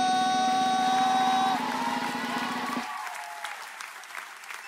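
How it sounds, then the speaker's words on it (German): A studio audience on a German TV show applauds the guests, the rap group 257ers. Steady clapping runs over a sustained electronic tone, then thins out and tapers off. "machen wir einmal richtig Halleluja-Applaus, Digga, für unsere Gäste heute Abend"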